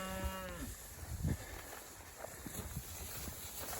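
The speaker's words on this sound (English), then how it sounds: "we're moving these cows at least every 2 or 3 days" An Angus cattle herd is moved to a new paddock, a single cow lowing briefly near the start, followed by faint hoof thuds and shuffling, quiet and somewhat distant.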